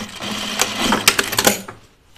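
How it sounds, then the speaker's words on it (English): A sewing machine stitches fabric pieces for cupcake and pie slice pincushions, running in a short burst of rapid mechanical chattering and clicking, close and fairly loud, then stopping with near silence at the end. "we're sewing these two together here"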